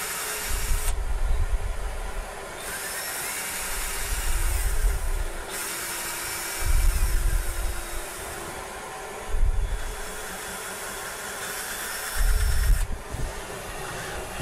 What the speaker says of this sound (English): we can just drill some holes through there